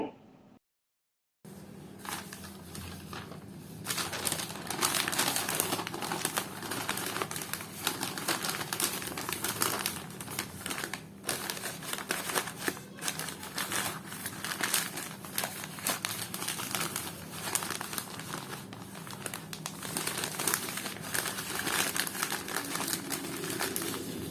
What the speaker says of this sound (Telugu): అందుకే ఇలా పేపర్లో చుడుతున్నాను